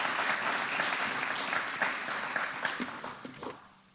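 An audience at a governor's school funding event applauds educators with a full burst of clapping that gradually thins out, ending in a few last scattered claps before it goes quiet.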